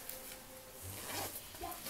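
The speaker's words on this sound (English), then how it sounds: "zip her up." A zipper being pulled closed on a mesh shoe wash bag, a short soft zipping rasp close by and alone, with light handling noise around it.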